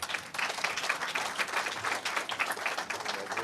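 Applause from an audience at a community awards ceremony, a sustained wash of many hands clapping at steady loudness, with a voice speaking over it.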